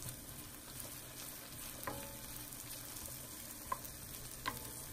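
Shallots fry in vegetable oil in a large skillet over medium heat, giving a soft, even sizzle with occasional light scrapes and taps as they are moved around.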